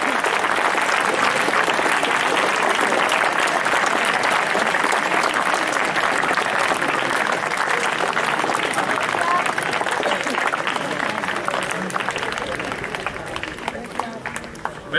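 Sustained loud applause from a school crowd at a cycling event, a thick, continuous wash of clapping lasting around fifteen seconds that gradually thins toward the end, with some voices mixed in.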